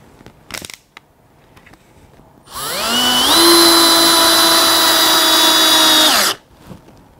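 A Bosch GSR 1080-2 Li cordless drill/driver spins up with a high motor whine, holds steady for several seconds while driving a screw, then cuts off abruptly; faint clicks come before it starts.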